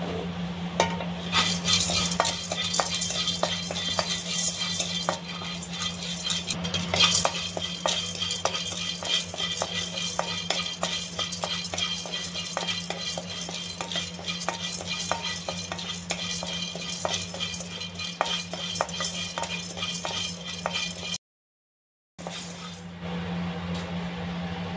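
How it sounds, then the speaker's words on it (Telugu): Chana dal fries and is stirred in a pan while pudina powder is made, with a continuous soft sizzle and frequent scraping, clinking stirs against the metal throughout and a brief silent gap near the end. "ఈ పచ్చిశనగపప్పును వేసి వేపుతున్నాను"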